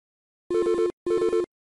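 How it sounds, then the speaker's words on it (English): A telephone rings in the video game Lockheart Indigo: two short, clean electronic ring bursts separated by a brief pause, each warbling in quick pulses, loud and alone. "Can you get the phone?"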